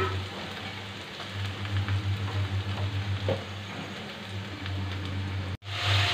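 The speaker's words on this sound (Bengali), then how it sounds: "আর আমার এখানে সেই মশলা কষানো হয়ে গেছে" Spice paste frying in a pan in a home kitchen, giving a steady broad sizzle and crackle that runs unbroken for several seconds, with no voices.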